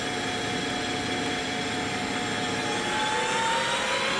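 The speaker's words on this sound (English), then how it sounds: "That's the M3 command. That starts the spindle head." A CNC 1236 metal lathe spindle runs with a continuous mechanical whir and steady motor whine, and a faint tone drifts slightly in pitch. It holds at even loudness throughout, nearby and without speech.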